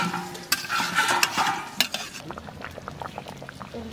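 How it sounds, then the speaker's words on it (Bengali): Chicken curry cooking in a pan, with stirring and sizzling plus a burst of hissing and bubbling as water goes in, then quieter scraping and simmering, close and fairly loud. "মাংস কষানো হয়ে গেছে, এবার জল দিয়ে দেবো।"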